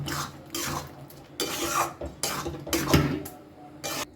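Fried egg being mixed into egg tadka in a pan, a spoon scraping and knocking against the pan in a few uneven strokes, close and moderately loud.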